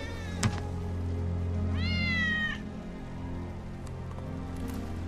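A single plaintive cat meow rises over a low droning hum, with a couple of faint clicks around it, from the video game Final Fantasy VII Remake, in the Sector 7 slums.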